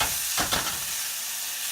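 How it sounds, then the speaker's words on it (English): Steady broadband sizzle of Italian sausage frying in a pan, with a couple of brief louder crackles early on, close and moderately loud. "Right now I'm going to add my meat here. It's my Italian sausage"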